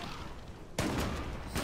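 Gunfire in the shooter game Zula, a muffled background rumble that gives way to a sudden loud burst of shots near the end.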